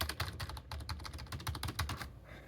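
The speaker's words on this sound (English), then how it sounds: "now here we have this keyboard. I love this keyboard. This keyboard, it lights up." Rapid, steady typing on a colour-changing backlit computer keyboard, clicking close up in a continuous run of key presses with no talking.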